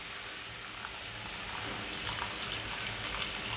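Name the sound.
hot water being poured into gravy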